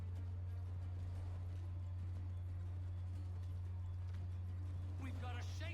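A horse gallops in Assassin's Creed 3, its hooves clip-clopping in a fast, even rhythm over a loud steady low hum, with a brief voice near the end.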